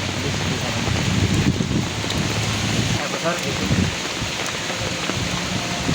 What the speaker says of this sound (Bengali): প্রচুর বৃষ্টি আমরা ঘর থেকে বাই হতে পারিনি